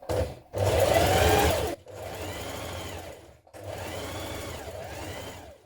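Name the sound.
sewing machine understitching a dress pocket seam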